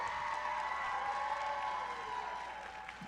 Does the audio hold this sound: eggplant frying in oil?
no